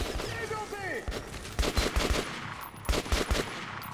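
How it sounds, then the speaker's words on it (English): Gunfire in the video game Metro 2033 Redux: a rapid cluster of sharp, punchy shots in bursts, close and loud, with a brief whistling sweep beforehand and no speech. "I don't know who is shooting me."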